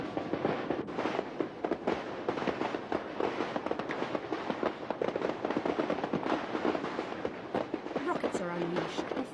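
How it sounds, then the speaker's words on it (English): Tet fireworks and firecrackers going off around Hoan Kiem Lake in Hanoi: a dense, continuous crackle of rapid pops and bangs that stays loud and unbroken throughout, with crowd voices mixed underneath. "Rockets are unleashed and firecrackers set off all around the lake in a sudden burst of light and sound."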